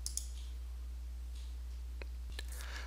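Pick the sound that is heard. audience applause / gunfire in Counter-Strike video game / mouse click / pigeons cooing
mouse click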